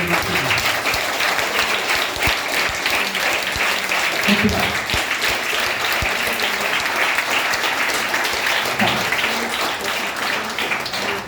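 A large audience at a motivational class in a college hall in Jagtial claps loudly and steadily for the whole stretch, a thick continuous roar of hands with some voices faintly underneath.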